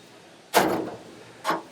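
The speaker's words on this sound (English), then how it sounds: "and then close the front door" A printer's front door on an Oce VarioPrint 6000 production printer swings shut with a solid thud, followed by a second, softer knock a moment later in a quiet room.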